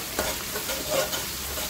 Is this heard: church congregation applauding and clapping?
no